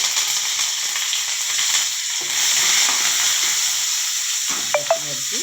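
Cumin seeds and curry leaves sizzle steadily in hot oil, a continuous close frying hiss with faint crackles and a couple of brief sharp pops near the end.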